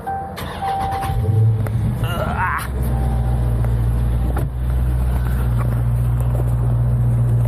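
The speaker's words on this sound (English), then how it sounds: "turn the actual car on real quick" A car engine turns over and catches, a brief starter whir followed by a steady low idle hum that settles in and keeps running nearby.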